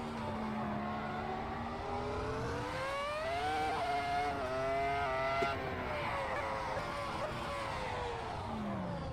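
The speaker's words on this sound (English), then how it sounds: "This car sounds so good." A race car engine in the Assetto Corsa driving game revs and climbs through rising and falling pitch, loud and continuous, with a brief bump in the middle and no talking.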